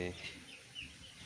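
A few three-day-old chicks cheep softly in short, high peeps at a couple of points. The peeps are faint and sit over low background noise and a murmur of voices.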